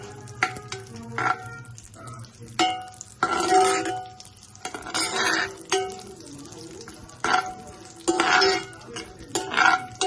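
Ingredients for sago payasam frying in a pan, with bursts of sizzling and stirring alternating with clinks of a utensil against the pan, close and moderately loud; no talking.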